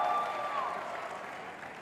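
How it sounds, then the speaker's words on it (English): Audience at a film teaser launch event applauds, a soft, steady patter of clapping that slowly fades, with a faint tone underneath. "a round of applause for our honey bunny"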